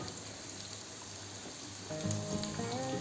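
About four large, finely chopped onions go into hot oil in a pan, and a steady soft sizzle swells into a louder crackling hiss partway through.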